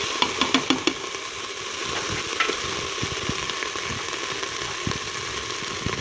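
Turkey pieces browning in a Cookeo multicooker give a steady close sizzle and fry hiss that runs throughout, with a few sharp crackles and pops early on.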